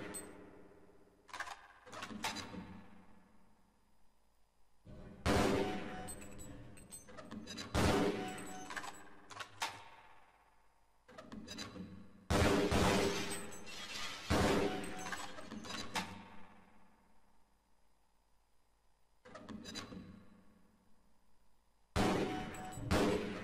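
Weapons firing at targets in Half-Life: Blue Shift, a training sequence with a grenade launcher: several loud bursts of gunfire and explosive impacts come in separate clusters, with quiet gaps between them.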